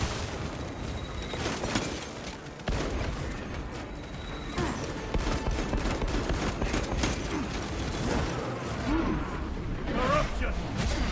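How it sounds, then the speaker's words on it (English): A frag grenade blows up in Warhammer 40,000: Space Marine II amid constant combat: booming blasts and gunfire layered over dense battle noise, with voices sounding throughout. "Frag grenade out."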